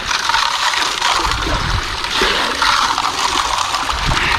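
Gravel material dumped into a water-filled sluice in an Irish river, a steady loud rush of flowing water with splashy, gurgling texture throughout, close and continuous, no talking.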